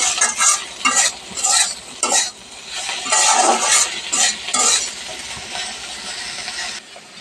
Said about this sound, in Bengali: এবার হচ্ছে সবটা নাড়া দিয়ে দিব